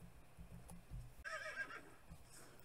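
A game horse in Star Stable lets out a clear whinny, a bright, wavering neigh lasting about half a second midway through, preceded by soft hoof-like thumps and followed by a quieter trailing call.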